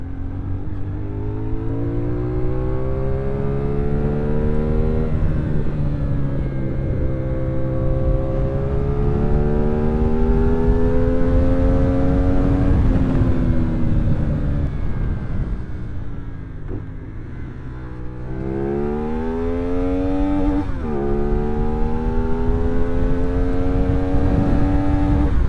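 A CFMOTO motorcycle engine revs hard under way, its strong harmonic tone climbing steadily toward redline, easing off briefly, then rising again, loud and close throughout with no talk.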